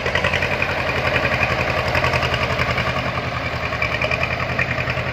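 A 90 horsepower farm tractor engine idles steadily with an even, low, chugging pulse and a constant rumble, close and loud for several seconds with no voices.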